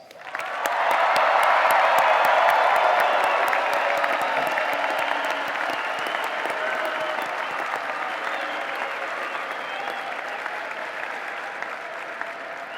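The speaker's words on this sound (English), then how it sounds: "I ask the audience to again recognize your achievement with applause." Large crowd applause at a university commencement ceremony honoring graduates, swelling quickly to a full, sustained roar of clapping with some cheering, then tapering slightly while staying strong.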